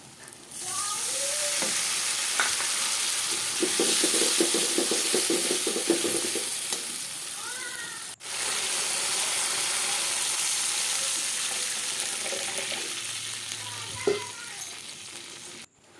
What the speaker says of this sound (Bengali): সামান্য একটু নাড়াচাড়া করে আমি অল্প জল দিলাম